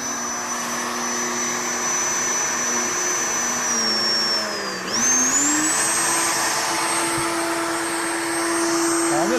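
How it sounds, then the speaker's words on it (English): A woodworking router spinning up to high speed as it cuts along a template, a loud steady whine that dips briefly mid-cut then climbs and holds at a higher pitch, close and continuous with no talk. "So we're going to turn the speed up on the router."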